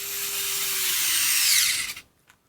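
A Cobalt cordless screwdriver runs in forward, giving a close, high whirring motor whine for about two seconds before spinning down, then a brief click.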